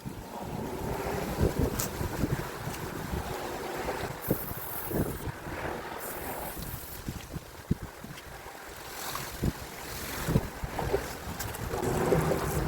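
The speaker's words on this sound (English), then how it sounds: "This wind is killing me." Steady outdoor wind buffets a microphone beside a camper van in autumn, a continuous roaring rush with gusty swells and scattered rustling, and no voices.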